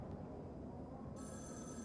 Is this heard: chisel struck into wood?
no